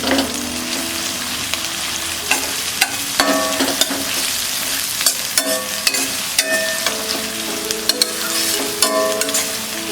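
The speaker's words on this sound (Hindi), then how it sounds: "अब हम इसमें डालेंगे ये अनियन, मिक्स कर देते हैं।" Onions sizzle loudly in a pan for spinach khichdi while a utensil stirs and scrapes through them, giving a continuous close frying hiss broken by repeated sharp scraping strokes.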